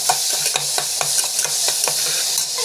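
Sautéing in a pan with salt and nuts added, a loud steady sizzle punctuated by rapid rhythmic spatula scrapes and taps, close and uninterrupted by speech.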